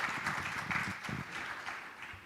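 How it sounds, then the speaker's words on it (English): Conference audience applauding a panel at a digital payment event in Ethiopia, a fairly faint, steady patter of clapping lasting a couple of seconds, somewhat distant. "please give a round of applause"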